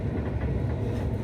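A train rolls along the rails, a steady dense rumble and rattle from inside the carriage with no pauses.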